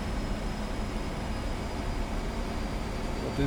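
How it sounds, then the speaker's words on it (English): A steady, broadband jet engine roar from a MiG-15 at idle with air brakes out in the DCS flight simulator, a rushing, airy wash holding constant throughout with no voices. "throttle is back to idle and air brakes are out, as you might hear"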